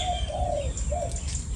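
A single dove coos softly in two low, smooth notes over steady background noise, with faint chirps from other birds nearby.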